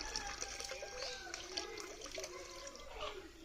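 A jaggery and water mixture is poured into a larger batch of jivamrut bioliquid fertilizer, giving a faint, continuous splashing pour of liquid with uneven gurgles throughout.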